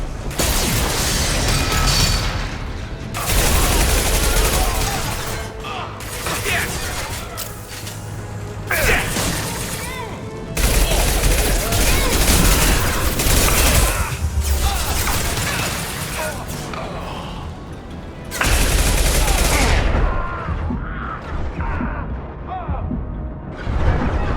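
Impact-shot gunfire and combat in Mass Effect 2: heavy blasts and mechanical bursts come in several loud clusters separated by quieter stretches, mixed with shouted voices and battle noise.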